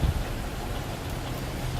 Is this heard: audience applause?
no